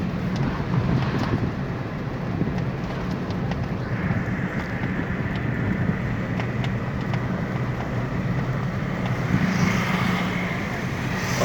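A car cruises at 70 km/h on a road between Bharatpur and Chitwan, a steady low engine and tyre rumble with wind noise, constant and unbroken throughout.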